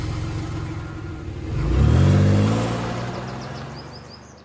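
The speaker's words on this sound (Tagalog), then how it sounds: "pinaandar niya na ang kotse para makalabas ng bakuran" A car engine turns over and revs up, swelling into a loud rumbling acceleration as the vehicle pulls away from a yard, then fading gradually as it drives off.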